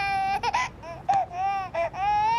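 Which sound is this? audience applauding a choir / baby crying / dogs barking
baby crying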